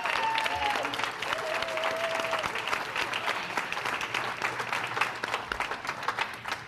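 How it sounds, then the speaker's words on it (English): Audience at a high school sports banquet breaks into sustained applause, a dense wash of many hands clapping at moderate distance, steady for the whole stretch with a brief whistle near the start. "I think that just deserves a round of applause."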